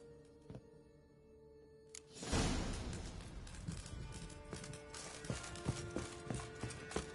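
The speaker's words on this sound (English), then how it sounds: "Oi, clumsy horse." Hooves of a horse galloping in The Witcher 3: Wild Hunt, a steady drumming run that swells in loudly after a quiet start and keeps going amid clattering game effects.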